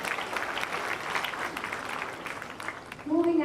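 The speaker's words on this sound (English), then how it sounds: "Give them a huge round of applause once again." An audience at a welcome and thanksgiving ceremony applauds after a performance in sustained, even clapping that fades slightly, then a voice speaks briefly at the end.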